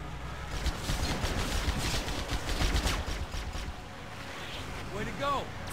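Gunfire in the game Halo CE rattles in rapid bursts over rumbling combat noise, thinning out toward the end as a voice exclaims briefly.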